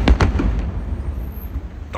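Fireworks on a night in late January 2023 crack in a quick cluster of loud bursts at the start, then fade into a low rolling rumble with one more sharp pop near the end.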